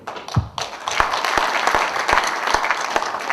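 Applause for union leaders at a labor federation meeting, scattered claps quickly building into steady clapping from a gathered crowd, with a few sharp individual claps standing out.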